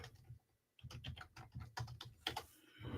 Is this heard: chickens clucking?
no